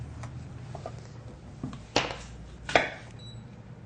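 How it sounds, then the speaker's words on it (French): A knife strikes a cutting board in a few sparse, sharp chops while cutting ripe figs, onion and apple for a fig chutney, each hit crisp and close with quiet pauses between. "des belles figues bien mûres, on va les couper en morceaux"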